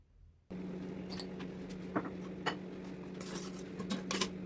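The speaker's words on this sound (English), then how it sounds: "Mix it all around once and season with salt" Cooked ridge gourd dal is stirred in a pot, with a few light spoon clinks and scrapes against the metal over a steady low kitchen hum.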